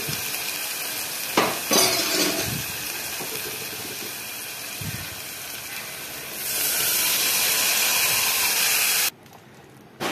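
Chopped sorrel greens dropped into a pan of frying chillies burst into a loud, close hiss and sizzle, with a few clatters of the pan and stirring, then the sizzle swells steadily before cutting out.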